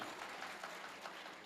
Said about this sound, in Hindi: मुझे मालूम थी आपकी तालियां आएंगी।